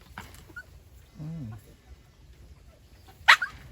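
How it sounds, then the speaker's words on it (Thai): A dog on a farm that keeps wild boar gives one brief whining yelp near the middle, with a sharp click afterward, in otherwise quiet surroundings. "อย่าเห่า"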